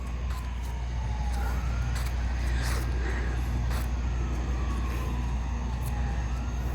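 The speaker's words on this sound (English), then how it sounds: "There must have been a wreck somewhere if you hear a siren" A siren wails faintly in the distance during a July garden tour, its rising and falling tone drifting over a steady low traffic hum, with occasional rustles close by.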